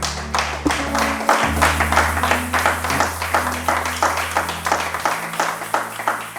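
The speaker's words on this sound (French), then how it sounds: "Nous acclamons Jésus encore" A church congregation applauds and cheers for Jesus, steady clapping over a sustained musical tone from keyboard or organ, loud and continuous throughout.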